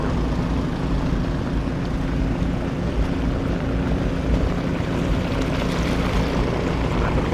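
Thai long-tail boat engine running on the Mae Song river, a loud, continuous droning roar that holds steady without letup, with no voices over it.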